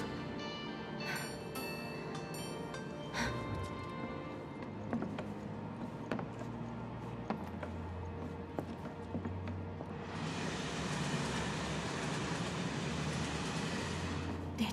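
Train interior in the video game Final Fantasy VII Remake: a steady rumbling carriage hum with scattered clicks and knocks, joined near the end by a broad, louder rushing roar, all fairly quiet with no talk.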